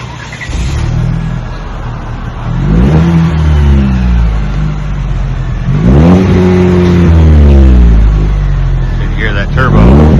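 Cabin recording of a 2026 Chevrolet Silverado fitted with a Magnaflow muffler and a turbo. The engine rumbles loud and close and climbs in pitch through repeated accelerating surges, with some faint higher turbo whine.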